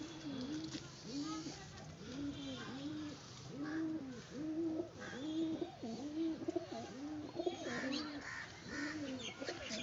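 Pigeons coo in a steady, repeating rhythm close by, their low throaty calls running throughout, with faint chatter and other bird chirps in the background.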